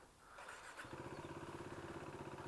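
A KTM 390 Duke motorcycle engine starts and settles into a steady, close idle with a rapid pulsing throb.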